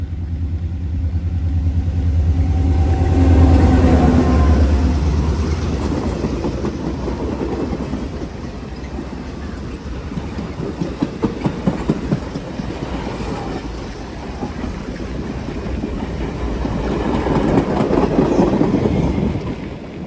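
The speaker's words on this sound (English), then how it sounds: "It's still next to these railroad tracks. My wish has been granted. We got a choo-choo." A freight or passenger train rolls along railroad tracks beside a bike trail between White Haven and Jim Thorpe, a loud sustained rumble with rhythmic clickety-clack of wheels over rail joints and faint squeals, swelling again near the end.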